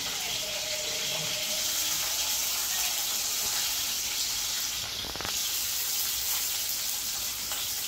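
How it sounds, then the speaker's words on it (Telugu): Onions and green chillies frying in a pan for egg curry, a continuous hissing sizzle with faint scraping stirs and a brief clatter near the middle, close and steady. "ఈ ఆనియన్స్ అనేవి చాలా బ్రౌన్ కలర్ వచ్చేదాకా వేయించుకోవాలి"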